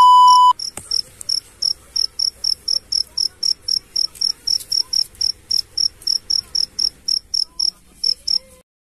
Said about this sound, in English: The rate at which the cricket chirps is related to the temperature.